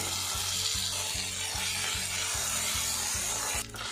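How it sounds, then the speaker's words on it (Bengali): Chopped onion and ginger-garlic paste fry in a pan with a steady, soft sizzle, while a spatula scrapes the pan in a regular rhythm about twice a second. "পেঁয়াজটা আমি লাল লাল করে ভেজে নেব।"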